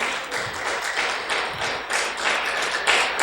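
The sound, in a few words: loud applause in church service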